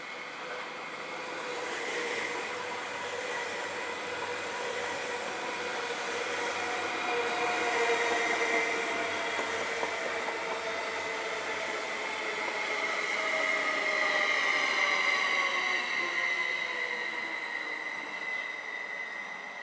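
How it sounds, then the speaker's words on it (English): Copper-coloured Stadler Flirt electric multiple unit of the Südostbahn (SOB) pulling into Landquart station in Switzerland, a steady rolling rumble and hum with gliding whine tones that swells and fades as the train draws up, with no talk. "An SOB, short for Südostbahn, Stadler Flirt pulls up to Landquart."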